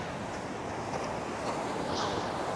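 Sea waves wash steadily onto the beach at Chilika Lake, a continuous broad rushing surf mixed with wind buffeting the microphone, moderately loud and with no voices.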